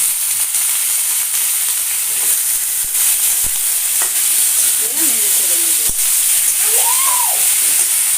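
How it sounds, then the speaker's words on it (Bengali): Cut potatoes and green bananas sizzle steadily in a pan with fried garlic and onion while being stirred, a continuous close frying hiss with occasional scraping clicks of the spoon. "আর সবগুলো কলা আলু দিয়ে এভাবে নেড়ে চড়ে দিচ্ছি"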